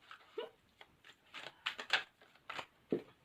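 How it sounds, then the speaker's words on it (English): Tarot cards shuffled by hand in quiet, a series of soft riffling and slapping bursts at an irregular rhythm, close and fairly faint. "I'll shut up and shuffle."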